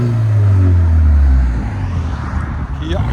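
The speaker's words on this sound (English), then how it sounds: "That sounds good with the race muffler." A 2016 Kia Optima SXL Turbo fitted with a NETAM NTR race muffler lets out a deep, loud exhaust drone that holds steady, then drops away into a lower rumble as the revs fall.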